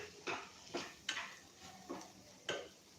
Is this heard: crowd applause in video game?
no